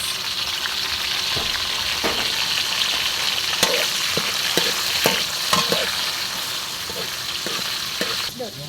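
Tomatoes sizzle in a hot pan while being sautéed for a mung bean dish, a continuous frying hiss broken by scattered crackles and the clicks and scrapes of stirring.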